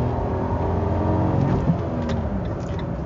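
A 2019 Fiat Mobi Drive with a 1.0 Firefly engine revs in city traffic with a bus close by. The engine drone is loud and steady throughout, with a brief rise in revs midway.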